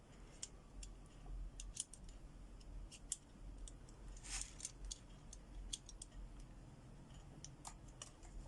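Alcohol felt-tip markers being cut through the middle give faint, scattered crisp snips and clicks, quiet and close, spread irregularly across a low background hiss with no talking.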